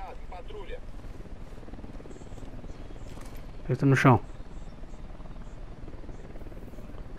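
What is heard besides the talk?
helicopter in video game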